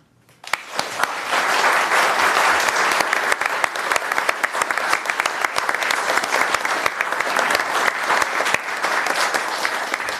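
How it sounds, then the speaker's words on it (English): Loud, sustained audience applause at a city commission special meeting in Dunedin for a newly sworn commissioner, starting abruptly and holding as a dense, steady roar of clapping hands for about ten seconds. "So please join me in a round of applause for our newest commission."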